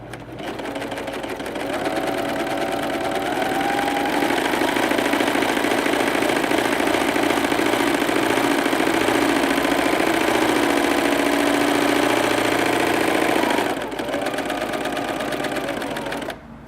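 A Pfaff Coverlock 3.0 overlocker stitches steadily around a fabric corner, giving a continuous fast mechanical whir that runs without a break for most of the clip, stops briefly and then starts again.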